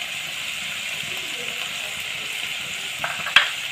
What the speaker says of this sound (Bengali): এই মশলাটা আমি খুব ভালো করে কষিয়ে নেব